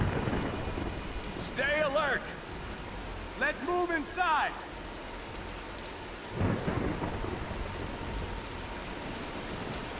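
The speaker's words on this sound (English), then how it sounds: "let's wait out the storm" Steady heavy rain with rumbling thunder in the video game Tomb Raider 2013, a continuous broad wash throughout, with people talking over it in short bursts.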